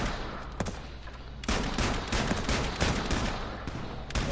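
Gunfire in the video game H1Z1, a rapid crackle of many shots building into a steady loud volley after the first second and a half.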